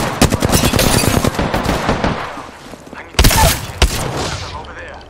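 Rapid machine-gun bursts in a shooter video game, loud stuttering volleys that fade, then a few sharp single shots near the end, with players talking over the gunfire.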